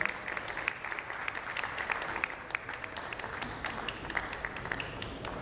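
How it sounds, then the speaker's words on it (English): Audience at a customer-experience panel discussion applauds to welcome a panelist: an even, moderately distant round of clapping that holds steady from start to finish. "A big round of applause to Sachin."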